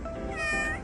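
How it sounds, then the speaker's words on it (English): A cat gives one short, clear meow, close and fairly loud, lasting under a second with no other sounds around it. "Meow!"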